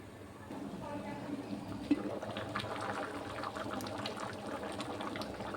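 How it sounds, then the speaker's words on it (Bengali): Ghugni gravy bubbles and simmers in a pot, a soft, continuous close burbling of small pops at low volume, with a faint thump and scattered clicks along the way. "ঝোলটা ফুটিয়ে নেব।"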